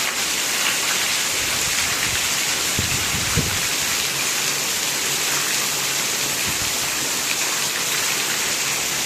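Steady heavy monsoon rain pours down in Mandvi, a dense continuous hiss with a few low rumbles, loud and close with no voices.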